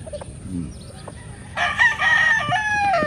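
On a large farm in Lipa City, Batangas, hens give soft clucks before a rooster breaks into a loud, close crow that stretches through the second half.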